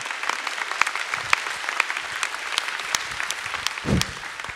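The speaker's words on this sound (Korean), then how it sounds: "우리 뜨거운 박수로 환영하겠습니다" A church congregation claps to welcome a pastor to the pulpit, scattered and fairly light clapping with a few sharp individual claps standing out over a soft room wash.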